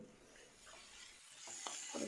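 Chopped large tomato frying and being stirred in a pan for a simple mutton curry, a soft steady sizzle with a few scraping stirs, close and quiet with no voices.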